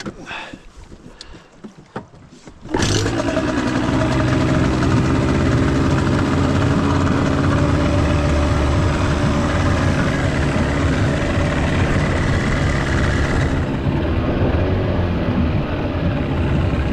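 After some quiet shuffling, an engine on a boat fires up abruptly and runs at a steady, loud, close idle for the remaining fourteen seconds, with wind noise on the microphone.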